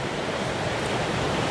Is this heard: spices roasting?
no